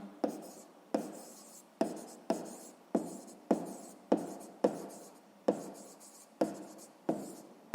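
Pen writing in a notebook during a sixth-grade maths exercise, a quiet close series of about a dozen evenly spaced scratchy strokes, each a short rub that fades before the next.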